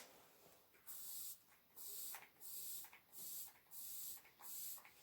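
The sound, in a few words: spraying makeup setting spray onto face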